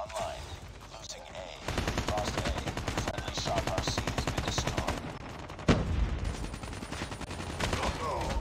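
AK47 fire in the shooter game COD Mobile comes as loud, fast, rhythmic bursts of automatic shots across most of the stretch, with brief pauses and a sharper impact midway.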